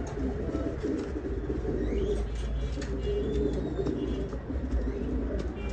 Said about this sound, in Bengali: মাশাআল্লাহ, অনেক বড় সাইজের কবুতর